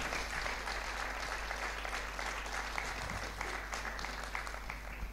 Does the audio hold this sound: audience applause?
yes